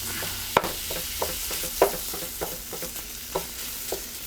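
Lean ground beef sizzles steadily in a pan, a constant close hiss broken by irregular clacks and scrapes of stirring.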